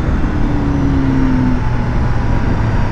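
A Honda CBR1000RR-R SP sport motorcycle pulls away in third gear, its engine droning loudly and smoothly under heavy wind rush, heard close from the rider's position.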